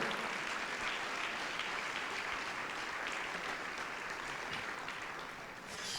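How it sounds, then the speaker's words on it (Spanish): Sustained applause from a church congregation at an evangelistic campaign service fills the whole stretch, dense and steady clapping that thins slightly near the end. "Si le quiere dar un aplauso,"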